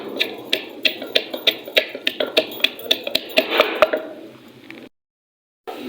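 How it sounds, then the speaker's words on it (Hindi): Ginger and garlic pounded in a mortar in a home kitchen, a steady run of about a dozen sharp, close knocks that loosen toward the end and then stop. "अदरक लहसुन को मैं खूंटी के अंदर कूट लूँगी।"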